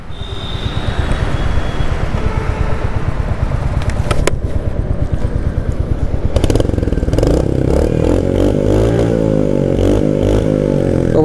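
A 2022 Royal Enfield Hunter 350 motorcycle with stock exhaust idles with a rapid, steady putter, then revs up into a louder, rising exhaust note, close and loud.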